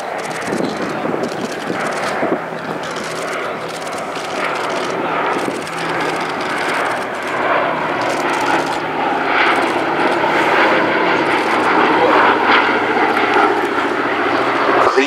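Piston engines of a B-17 bomber drone steadily at the Duxford VE Day airshow, a loud continuous rumble that swells slightly as the aircraft passes, with an announcer talking over it.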